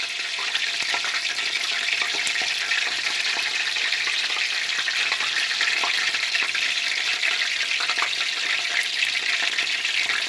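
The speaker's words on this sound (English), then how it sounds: "It'll start to sizzle, and basically when the sizzling or the frying of the water stops" Food frying in hot oil, a loud, dense, steady sizzle with crackling pops, heard up close with no voices.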